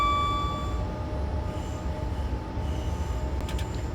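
An electric train running in the Train Simulator 2020 game, a steady rolling rumble of wheels on rails with faint tonal whines and brief high chimes near the end, no talking.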